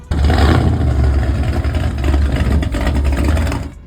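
A hot rod's 7.5-litre Chevrolet 454 V8 idles with a deep, loud, rough rumble and a clattery edge, steady for a few seconds before cutting off.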